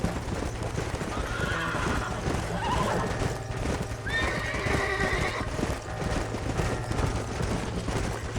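Horses in the Red Dead Redemption video game, with steady hoof clip-clop and neighing and whinnying throughout, backed by a busy layered game soundscape.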